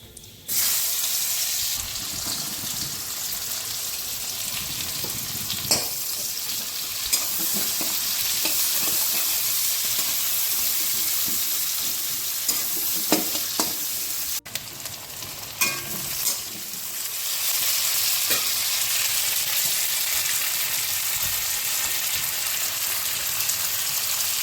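Onions, a dried red chili and whole garam masala fry in a hot pan, giving a steady sizzle with occasional scraping stirs for about twenty-five seconds, plus faint running water from a tap at times.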